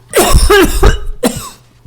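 A few harsh, throaty coughs in quick succession, close and loud, followed by a shorter final cough; no speech.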